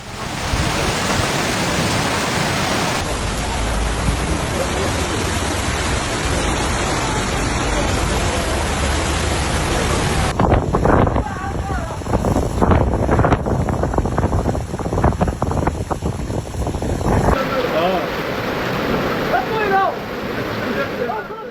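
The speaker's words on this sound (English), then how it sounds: "the skies unleashed unpredictable natural forces, bringing heavy rain, lightning storms, and hail that affected multiple areas simultaneously." An Algerian thunderstorm with heavy rain, hail and strong wind makes a loud, continuous roaring wash of noise that shifts abruptly in character between sections, with no clear speech.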